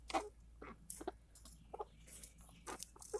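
Backyard chickens cluck in short, scattered bursts, a handful of quiet clucks and squawks spaced irregularly over a few seconds, close by with no talk.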